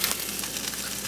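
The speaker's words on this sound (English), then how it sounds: "reheat our pizzas using a frying pan" Pizza slices reheating in a frying pan give a steady, close broadband sizzle and crackle that holds at an even level throughout.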